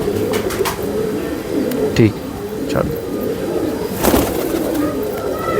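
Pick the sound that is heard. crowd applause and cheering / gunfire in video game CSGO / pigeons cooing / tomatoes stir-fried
pigeons cooing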